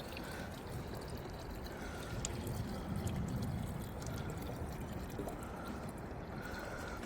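Liquid compost tea pours into a bottle in a steady, soft trickle and splash that swells briefly midway, with no talking.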